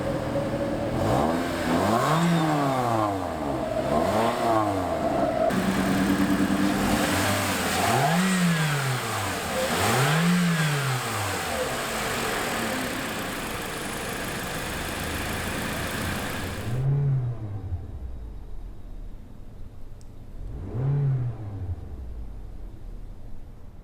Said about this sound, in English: And that was a little sound of the engine there.